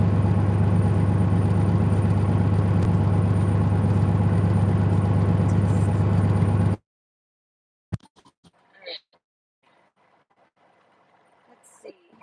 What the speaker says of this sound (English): I'm sure you can hear the truck idling in the background.